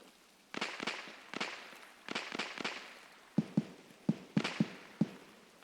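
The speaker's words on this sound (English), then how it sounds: "Sounds like the BTR is shooting." A BTR armored vehicle fires in a video game, a series of sharp distant gunshot bursts in irregular clusters, with the later shots louder and punchier, and no talk over them.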